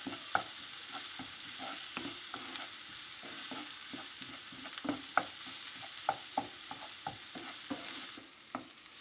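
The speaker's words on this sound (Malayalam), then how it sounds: "ഇഞ്ചി വെളുത്തുള്ളിയും അതും വഴറ്റി എടുക്കാം." Ginger-garlic paste and green chili sauté in a pan, a steady close sizzle broken by regular scraping and tapping of a spatula stirring, with no talking.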